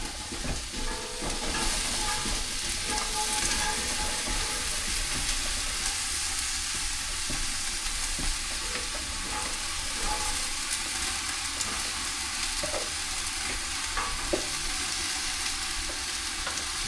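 Potatoes frying in a pan sizzle continuously and fairly loud up close, a dense steady hiss with occasional small crackles and stirring scrapes, no talk.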